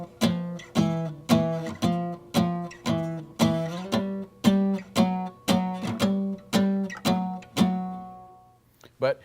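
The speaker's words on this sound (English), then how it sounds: "muting the strings for the percussive sound and playing the third or the seventh with one finger" Jazz rhythm guitar, muted strings giving short percussive chords on a steady even pulse, each stroke clipped and close, ending with a final ringing chord.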